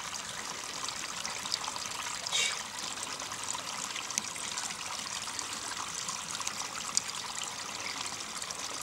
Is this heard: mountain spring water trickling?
yes